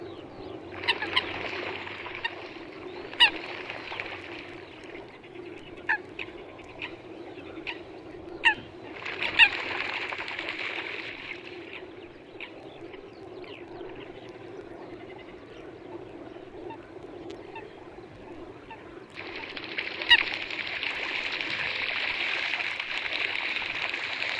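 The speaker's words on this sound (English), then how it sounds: "Aggressive coots can be heard chasing each other over the surface of the water." Coots chase each other across the surface of a gravel-pit lake, loud splashing scuffles and sharp calls in two long bursts, with scattered clicks and softer water sounds between them.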